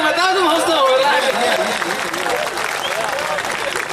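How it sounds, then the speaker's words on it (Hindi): Applause from a live comedy show audience, dense clapping and crowd noise mixed with the voice of a performer talking over it throughout. "ऐसे नहीं ताली बजा के बताओ"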